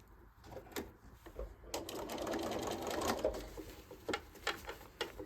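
Domestic sewing machine stitching the armhole seam of a lined bodice, a steady close whirring run in several bursts with short pauses, stops and brief restarts.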